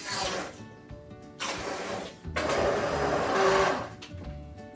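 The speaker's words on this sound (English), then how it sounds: "I'm going to blend it with an immersion blender." An immersion blender whirs through cooked apples being pureed into apple butter, running in loud, close bursts that stop briefly and start again, with its motor pitch shifting as it works through the fruit.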